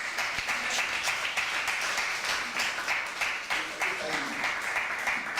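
A church congregation claps in praise, producing a dense, continuous wash of applause that fills the room while voices carry on underneath.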